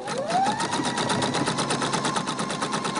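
A domestic sewing machine runs fast and steady, stitching elastic onto fabric for children's bloomers, a close, even mechanical rattle with a faint whine underneath, no talk.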